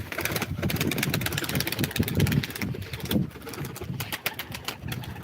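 Soft pigeon coos repeat in a steady low murmur, close by, over a constant hum of background noise, at a live pigeon auction.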